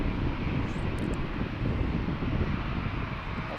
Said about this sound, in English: I should just assume when a plane takes off,